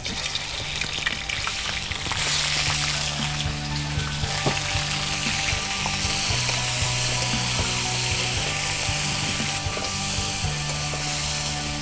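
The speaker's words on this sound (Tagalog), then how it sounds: "Sear lang natin yung ating duck." Duck pieces searing in hot oil in a pan give off a steady, close sizzle that runs the whole time, with scattered clinks and scrapes of a utensil against the pan.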